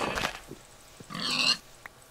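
Several pigs in the video game Minecraft grunt and oink in short bursts, a few close and one louder squealing oink in the middle, with quiet gaps between.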